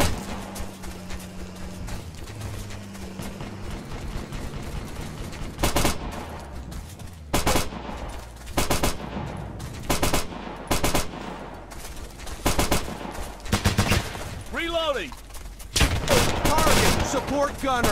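Marines open fire in the video game Operation Flashpoint: Dragon Rising, with bursts of automatic gunfire and scattered single shots that come in loud, irregular clusters over a low background rumble.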